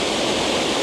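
A waterfall roars in a steady, dense rush of white water, loud and close, with no voices or breaks.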